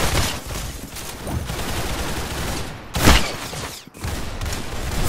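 Rapid gunfire in the video game Arsenal, a dense, loud barrage of overlapping shots with a sharp louder burst partway through, close and almost unbroken.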